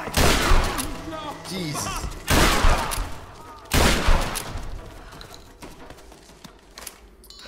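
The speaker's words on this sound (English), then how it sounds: "God, this shotgun is amazing." Loud shotgun blasts boom out in the Tomb Raider video game, three heavy shots spaced a second or so apart amid gunfire and action effects, while a player talks over them.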